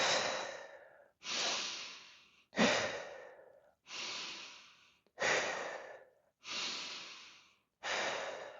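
Deep breathwork breaths, seven long, loud, evenly spaced rushes of air, each swelling sharply and fading out, with short silent gaps between them.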